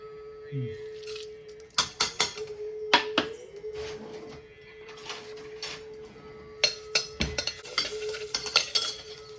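Tempering seeds fry in a pan for sambar while a spoon stirs and scrapes, giving bursts of clinks and scratches over a faint sizzle, close by. A steady hum sits underneath.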